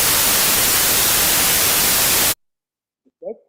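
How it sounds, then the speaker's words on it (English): Loud, dense hiss like static from a quantum measurement signal fills the first couple of seconds, then cuts off abruptly to silence before a brief voice fragment. "So what you heard is some noise on top of the interesting signal."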